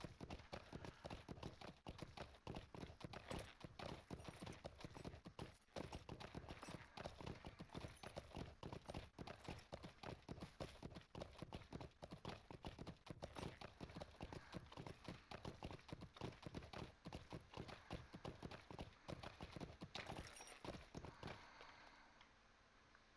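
Steady, rhythmic horse hoofbeats in the video game Lord of the Rings Online clip-clop continuously at a brisk pace, close and clear, stopping abruptly near the end.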